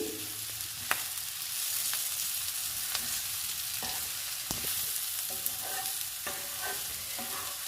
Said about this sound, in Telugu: గుడ్లకు కూడా మసాలా పట్టేటట్టు వేయించుకోవాలి.